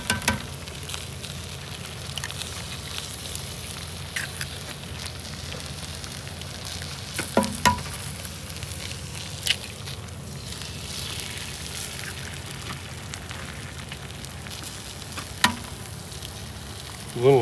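Bacon and eggs fry on a roadside griddle in California, giving a steady close sizzle throughout with a few sharp clicks and scrapes from utensils and no talk.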